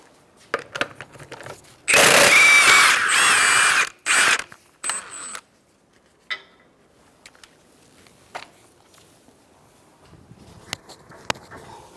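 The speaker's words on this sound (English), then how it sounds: "Using a 21mm socket, we're going to take off our wheel." Power tool with a 21mm socket spinning off the lug nuts of a 2014-2019 Kia Soul front wheel: a loud two-second whirring rattle, a shorter burst, then clicks and clanks of nuts and tools dropping, fading into quiet.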